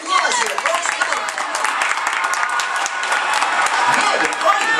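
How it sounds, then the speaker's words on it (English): An audience at an eighth birthday party applauds the birthday star: dense, loud clapping mixed with crowd cheering and voices, sustained steadily throughout. "How about some applause here, folks?"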